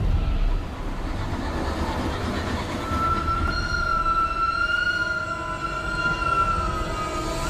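A train rumbles steadily along the tracks, with a high, drawn-out squeal of wheels rising partway through and holding to the end.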